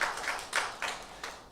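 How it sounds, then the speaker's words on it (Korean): A church congregation at a Sunday Lent worship service at Hanyang University claps to welcome a newly enrolling student and a missionary; a few soft, scattered bursts of applause sound fairly distant and quiet. "네, 환영의 박수 보내드리겠습니다."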